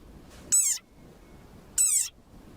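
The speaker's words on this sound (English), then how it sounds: "this is a sonorous war cry of a very angry frog" An angry frog gives two loud, squeaky war cries like a dog toy, each about a quarter second long and spaced over a second apart, with quiet between them.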